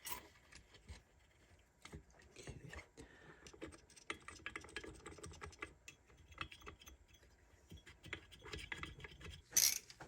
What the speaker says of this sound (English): these get torqued down to 18 foot-pounds